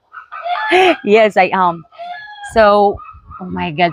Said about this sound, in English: sorry for the noise of the chicken, guys.